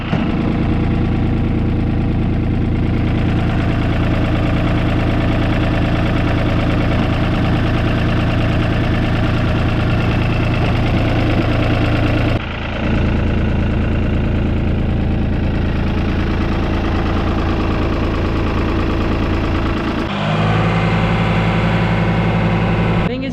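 A tractor engine runs loudly and steadily nearby on a Western Australian sheep farm, a deep rumbling idle with knocking vibration that briefly dips and changes pitch toward the end.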